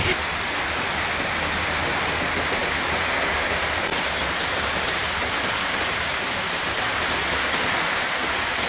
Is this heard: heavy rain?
yes